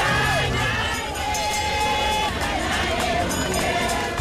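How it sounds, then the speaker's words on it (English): A rain-soaked crowd standing under heavy police presence chants and sings, a dense, steady mass of voices filling the scene with sustained tones rising above the general hubbub. "chanting and singing."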